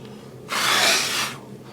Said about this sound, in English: So I'm going to scrape this away to create my funnel. Get rid of the excess sand.